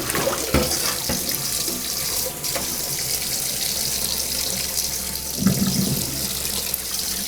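Lukewarm tap water runs steadily as a cotton towel is soaked before plant dyeing with Japanese cedar, a loud, close, continuous splashing rush with a few louder sloshes as the fabric is handled, and no talking.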